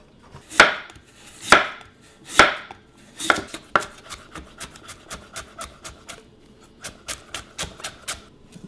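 Knife chopping vegetables into matchsticks on a board for kimchi: a few heavy, spaced cuts at first, then a quicker, steady run of crisp close taps, with no talk.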